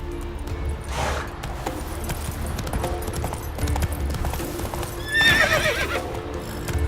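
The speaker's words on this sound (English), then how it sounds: "Run, Roach." Roach, a horse in The Witcher 3 video game, gallops with a steady clip-clop of hooves throughout, then lets out a loud whinny near the end over the ongoing hoofbeats.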